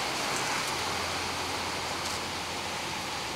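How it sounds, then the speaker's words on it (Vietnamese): Steady, dense hiss of cold rain falling outdoors by a backyard guppy fish pond, an even broadband wash without distinct drops, continuous and fairly loud. "bên ngoài trời mưa rất là lạnh"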